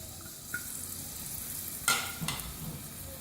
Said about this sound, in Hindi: ऑयल जैसे ही गर्म होगा हम इसमें प्याज शामिल करेंगे।